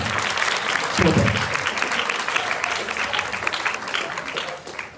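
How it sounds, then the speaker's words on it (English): Applause for first-time student debaters at a debate competition, a dense crowd clapping steadily throughout, with a brief voice near the start and the clapping thinning slightly toward the end. "So give them a round of applause."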